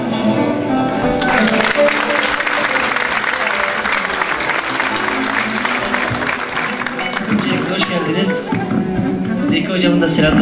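Applause from a classical Turkish music concert audience greets a soloist, dense clapping that carries through and fades near the end as musical tones and a voice emerge.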